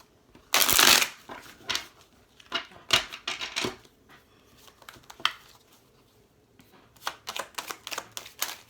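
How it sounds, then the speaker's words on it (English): Large oracle cards are shuffled by hand during a tarot-style reading, giving bursts of papery riffling and flicking, a loud run near the start, then several shorter flurries with brief pauses, close up and with no talking. "I love oracle decks, but when they're big cards like this, I have a hard time shuffling"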